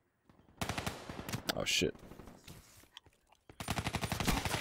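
Rapid automatic gunfire in Call of Duty Black Ops 3 multiplayer, two loud close bursts of machine-gun fire separated by a short pause, with a brief spoken exclamation between them.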